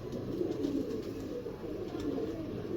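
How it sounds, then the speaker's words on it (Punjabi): A Lakha pigeon coos in low, soft, repeated murmurs close by, steady and fairly faint over a light background hiss. "ਇਹ ਲੱਖਾ ਕਬੂਤਰ ਹੈ ਜੀ"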